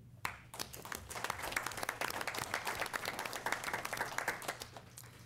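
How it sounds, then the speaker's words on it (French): Applause fills a city council meeting: many hands clapping steadily from near and far, dense and sustained throughout with no break, filling the hall. "vous pouvez aussi vous donner une belle main d'applaudissement pour ceux qui partent"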